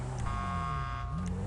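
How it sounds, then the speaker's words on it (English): A car horn sounds in GTA V, a steady buzzing honk that holds for about a second over a low rumbling game background. "what is he honking his horn for?"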